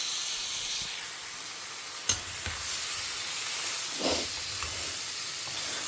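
Potatoes tumble into a pan of brinjal frying in oil, raising a steady sizzle with a sharp clatter of pieces landing and brief bursts of hissing as they are stirred, close and moderately loud.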